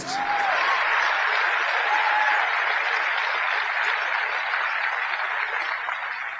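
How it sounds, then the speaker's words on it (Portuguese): A church congregation applauds a preacher during a sermon, a broad, even wash of clapping that holds steady and moderately distant throughout, with no voice on top. "Eu não sei por que vocês estão aplaudindo"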